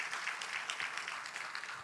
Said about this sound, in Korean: 우리 같이 함께 환영의 박수 하십시다